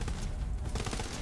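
Dense, continuous gunfire from several weapons in Borderlands 3, with rapid overlapping shots and blasts packed into a steady, loud barrage.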